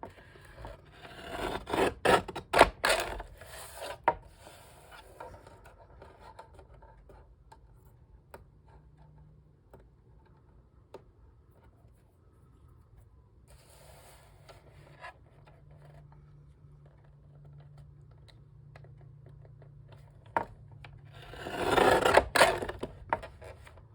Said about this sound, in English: I think I'm going to cut just a little slither off both sides to give it a decal edge